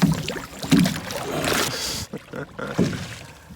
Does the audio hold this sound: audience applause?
no